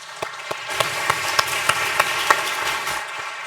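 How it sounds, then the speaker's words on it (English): Audience members at a lobular breast cancer event applaud an expert panel, a moderate round of clapping with a few sharper individual claps standing out near the front. "If we can give them another round of applause."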